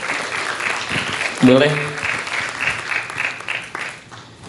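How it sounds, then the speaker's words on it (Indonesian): An audience claps for a speaker at a Pancasila discussion on the Universitas Indonesia campus: a warm, sustained round of applause under a voice that talks over it, swelling briefly, then settling and fading. "Yuk kita beri tepuk tangan yang meriah untuk Ibu Gemala Hatta."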